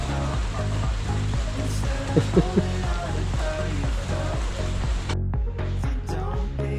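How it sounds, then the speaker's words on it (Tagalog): Rain falls at a provincial campsite, a steady broadband hiss with low rumble underneath, continuous throughout and briefly dropping out near the end. "Umuulan pa."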